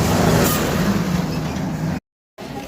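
A motorbike engine revs loudly at Kaptipada market in Odisha, a steady, rough roar that cuts out abruptly for a moment and then returns.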